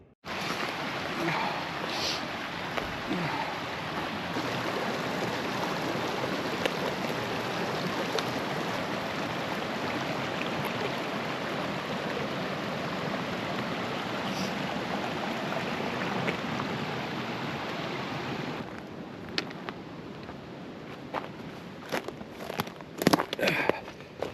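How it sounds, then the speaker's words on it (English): Steady broadband rushing of flowing water from a creek fills the scene, with a few faint knocks and rustles near the end. "Sounds like there's a creek over there"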